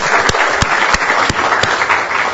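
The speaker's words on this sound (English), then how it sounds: "let me just ask everyone to give her a big round of applause," A conference audience applauds in a dense, steady wash of clapping with a few sharper single claps standing out close by, no speech over it.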